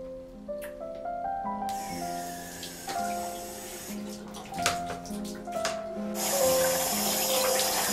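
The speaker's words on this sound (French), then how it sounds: "Puis, il se lave." Water runs from a tap into a bathroom sink while someone washes, a steady splashing rush with a few brief splashes, heard under background music.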